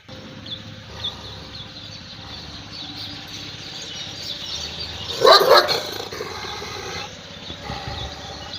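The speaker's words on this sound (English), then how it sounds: "That's a mighty dog" A big farm guard dog lets out a short, loud burst of barks midway through, standing out against a steady outdoor background with faint birds or insects.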